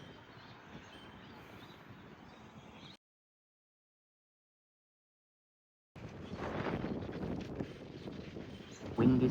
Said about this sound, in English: So windy, guys.